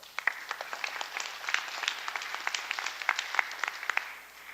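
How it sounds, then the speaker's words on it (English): A roomful of people at a national council meeting gives a round of applause for named council members, with dense, crisp clapping that holds steady before tapering off at the end. "I'd like to have a round of applause for them as well"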